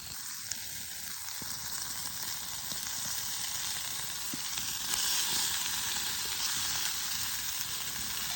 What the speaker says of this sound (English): Cook that bacon